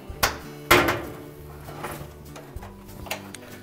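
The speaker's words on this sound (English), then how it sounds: "and then we'll open the door" A GE dryer door being opened during a door switch repair: a couple of sharp clicks and a thud from the latch and panel, then softer handling knocks, close and fairly quiet.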